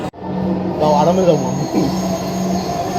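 Loud, steady rumble of a Dhaka metro rail train in motion with a tonal whine and faint squeal, heard from inside the carriage; an announcement voice speaks briefly.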